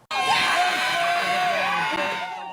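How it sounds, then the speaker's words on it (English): Hundreds of families in a crowd cheer and whoop for graduates at a high school graduation ceremony, a loud, sustained roar of mixed shouts lasting the whole moment. "Hundreds of families cheered on their graduates as faculty members called their names"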